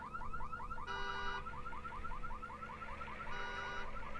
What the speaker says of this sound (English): That alarm is annoying as fuck.